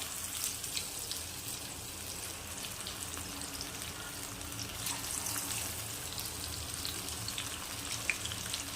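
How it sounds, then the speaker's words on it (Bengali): Food frying in hot oil in a home kitchen on a rainy day, a steady soft crackling hiss that carries on evenly throughout, fairly quiet and without talk. "এমনি করে সবগুলো ভেজে নেবো"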